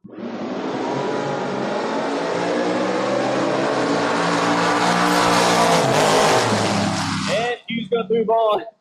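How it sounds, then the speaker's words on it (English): A Plymouth Duster and a Chevrolet Camaro launch at a drag race, their loud engines roaring and rising in pitch together for about seven seconds. The roar then cuts off sharply, and an announcer's voice follows. "Hugh back up again in the Duster, 6:36, taking on Jack Fisk in the Camaro"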